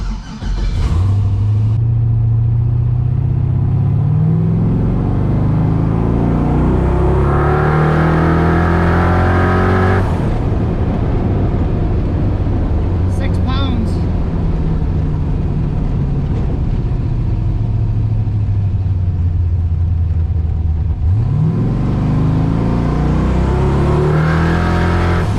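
Twin-turbo LS V8 in a Ford Ranger revving hard during a boost test, loud and close, with repeated rising throttle pulls and falling revs, a sharp blip near the end and no talking.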